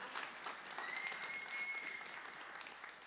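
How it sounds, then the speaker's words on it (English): A concert audience gives a round of applause for two musicians, a faint, distant and steady patter of clapping held for a few seconds with a thin tone drifting above it. "Give them a one round of applause, please."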